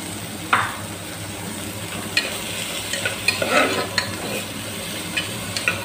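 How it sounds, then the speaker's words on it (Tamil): Carrot, potato, beans and green peas sizzle as they sauté in oil in a pan, with a steady frying hiss and occasional clinks and scrapes of a spoon stirring them, no voices. "இந்த காயும் இந்த எண்ணெயில் 2 நிமிஷம் நல்லா வதங்கட்டும்"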